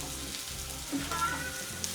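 Mushrooms sizzle and fry steadily in avocado oil in a hot pan, a quiet, even crackle with faint stirring and no voices.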